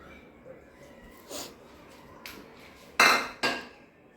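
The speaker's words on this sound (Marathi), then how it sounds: "मी आता ह्या ओव्हनमध्ये ठेवते" A dish is set into a microwave oven while preparing a Sankranti recipe: two sharp clinks of crockery against the oven interior, close and distinct, come late in a quiet kitchen, after a few soft handling knocks.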